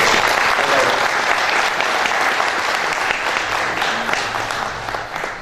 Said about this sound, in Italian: accogliamo con un caloroso applauso